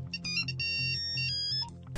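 An old Nokia mobile phone ringtone plays a quick, bright repeating melody of electronic beeps, steady and fairly clear, with no talking.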